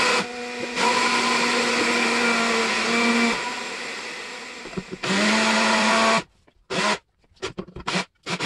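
A converted kitchen blender with a homemade seal grinds rice into flour, a loud steady whirring roar that runs, dips briefly, surges again, then cuts off in a few short stop-start bursts.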